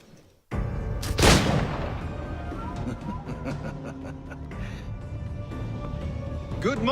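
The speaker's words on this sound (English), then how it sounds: "I hear gunshots going off and I hope they're not aimed at people" Gunshots go off in Assassin's Creed IV Black Flag, a sharp loud blast near the start followed by scattered distant shots and rumbling battle noise.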